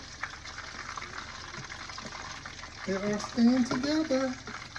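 Homemade copycat McDonald's hash browns fry in a pan with a steady bubbling sizzle that runs throughout, while someone talks over it for the latter half.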